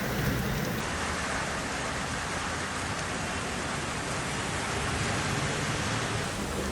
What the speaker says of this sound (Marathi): पिंपरी चिंचवड शहरात आज दुपारी 4 वाजता दरम्यान जोरदार अवकाळी पावसाला सुरुवात झाली आहे